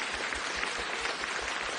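Faint, steady applause from a small group, with quick continuous clapping heard at a distance and no voices.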